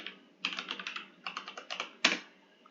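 Computer keyboard typing a username and password, two quick bursts of close, crisp keystrokes separated by a short pause, ending with one louder key press.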